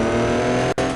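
A 2022 Dodge Cummins 4500 truck in the Offroad Outlaws game revs with a loud, steady droning engine tone that cuts out for an instant near the end.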